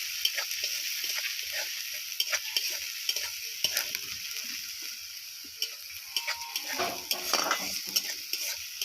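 Chopped tomato and green chilli stirred in a sizzling pan, a steady frying hiss broken by irregular scraping and clicking strokes of the spoon, close and moderately loud with no talking.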